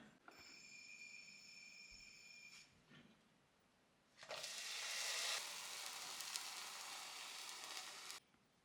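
An omelette sizzles in a covered pan on a stove turned up to high, a bright steady frying hiss swelling loudly midway and holding for several seconds before cutting off, with quieter clatter before it.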